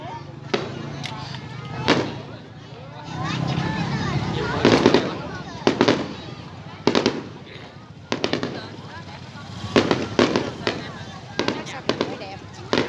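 Fireworks display over Ca Mau city, Vietnam, in 2020: a long run of sharp pops and bursts at irregular intervals over a steady crowd and ambient wash, with people talking nearby throughout.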